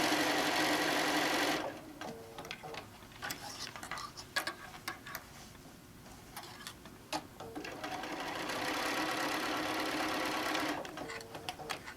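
A sewing machine top stitches a quilt in bursts, a fast even whirring chatter close by that runs, slows to sparse ticking, and then picks back up to a steady run before stopping.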